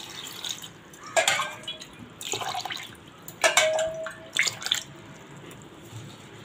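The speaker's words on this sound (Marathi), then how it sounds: "हे 3-4 वेळा चांगले स्वच्छ पाण्याने धुवून घ्यायचे।" Rice, lentils and fenugreek seeds are washed by hand in water for masala dosa batter, giving several separate bursts of splashing and sloshing with faint ringing clinks against the vessel, and no talk.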